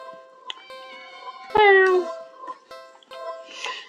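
In the video game Do Not Take This Cat Home, a cat in a cardboard box at the end of an alley gives one loud, drawn-out meow that slides downward, set against steady tonal game music and small interface clicks.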